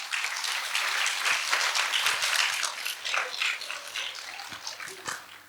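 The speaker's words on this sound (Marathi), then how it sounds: "म्हणून पालकांसाठी जोरदार टाळ्या वाजवूयात." An audience at a kindergarten school gathering claps for the parents, a dense patter of many hands carrying on steadily and tapering slightly near the end.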